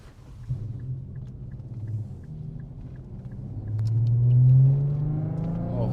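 An Infiniti Q50S AWD hybrid sedan gives a low engine and exhaust rumble that builds into a rising rev partway through, then settles back to a steady drone from nearby.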